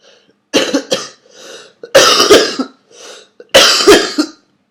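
One person coughs close up in three separate harsh bursts, each a quick double or triple cough followed by a short rasping breath, with quiet gaps between.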